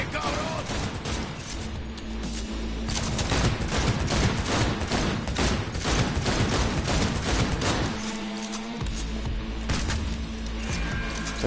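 Heavy gunfire in Cyberpunk 2077 combat rattles in rapid, loud bursts of automatic shots, broken by a brief pause before the firing resumes, with voices talking over it.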